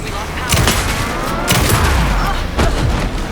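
Rapid bursts of gunfire in the survival-horror video game Alan Wake 2, used to pin down an enemy, come in three loud volleys at roughly one-second intervals over a dense, rumbling battle backdrop.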